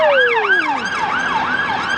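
A police car siren wails in rising and falling sweeps as it passes along a street near Blackpool Tower on Albert Road. The siren is loud and close, with steady road noise underneath and no talk.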